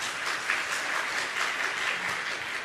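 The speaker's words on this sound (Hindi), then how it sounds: "तो तालियां जोरदार से हो जाए" Audience at a Jain religious question-and-answer gathering clapping together, a steady dense patter of applause at moderate level, sustained evenly for the whole stretch.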